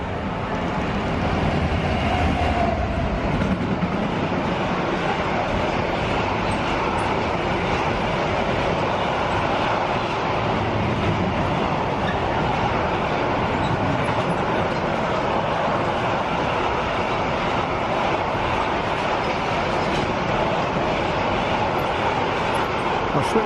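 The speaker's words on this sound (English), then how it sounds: "A freight train" A freight train rolls through a station platform, a steady broad rumble and rail noise that holds loud and constant throughout, with faint voices in the background.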